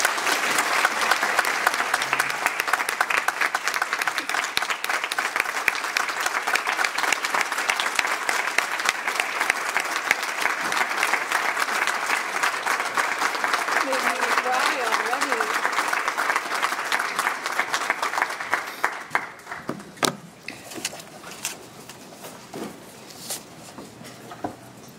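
Sustained audience applause welcoming speaker Whitney Austin at a Daughters of Greatness presentation, a dense steady clapping crowd that fades out after about twenty seconds into a few scattered claps.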